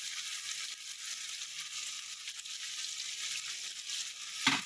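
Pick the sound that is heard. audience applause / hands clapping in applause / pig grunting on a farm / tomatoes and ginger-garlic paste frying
tomatoes and ginger-garlic paste frying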